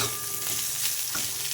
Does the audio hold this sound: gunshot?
no